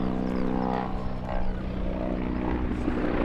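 An Italian Agusta AH-129D Mangusta attack helicopter departs its ground position at RIAT 2023, its rotor and turbine noise a loud, continuous whine and throb, with faint crowd sounds in the background.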